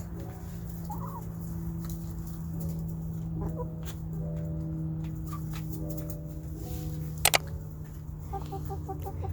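Several farm-flock chickens cluck and murmur nearby in short repeated bursts over a steady low background hum, with one sharp brief sound near the end and no one speaking.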